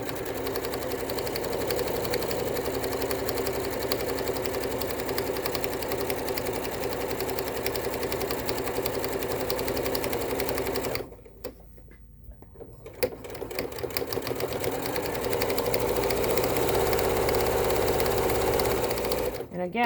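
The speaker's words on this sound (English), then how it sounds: "I'm going to stitch right along that bottom." Sewing machine stitching along the bottom of a fabric piece, a rapid steady mechanical whir close by that stops briefly and then resumes, with quiet talking underneath.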